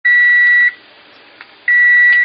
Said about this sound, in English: Okay, timer goes off